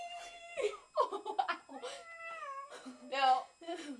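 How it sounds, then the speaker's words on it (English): A cat being swung in a blanket meows several times in drawn-out, wavering cries, close up, amid laughter and chatter from people nearby. "sure that it meows, that way you know it's having fun"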